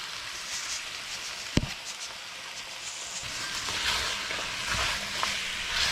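Curry paste is stirred into hassar fish frying in a pot, giving a steady soft sizzle and hiss with a sharp clack of a utensil partway through, fairly quiet and without talk.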